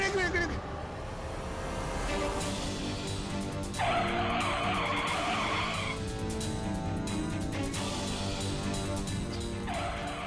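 A car skids with failing brakes during a tense drama scene, a sustained loud tyre and engine roar with squealing bursts, while frantic voices talk over it.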